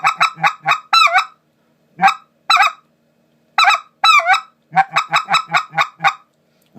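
A grunt-style goose call of the Basin Calls Ricer type imitates specklebelly goose calling: loud, close bursts of rapid high-pitched yelps and clucks in quick runs with short pauses between, sounding like a honking flock.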